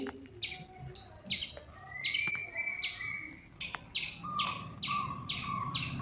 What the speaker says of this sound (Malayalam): പക്ഷിമൃഗാദികൾ പക്ഷികളുടെ സ്വരങ്ങളാണ് കേട്ടുകൊണ്ടിരിക്കുന്നത്